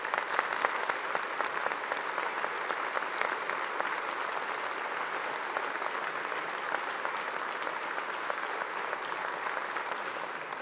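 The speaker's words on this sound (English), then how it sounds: "let's give these graduates one final round of applause." Graduation ceremony audience for science and engineering graduates gives a long, sustained round of applause, a dense even wash of many hands clapping throughout with no break.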